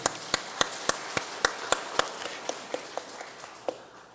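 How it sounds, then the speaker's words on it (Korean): A church congregation at a Sunday worship service claps in a slow, regular rhythm, about a dozen distinct unified claps spaced evenly, moderately loud in a reverberant hall and fading at the end. "박수 한번 하시겠습니다."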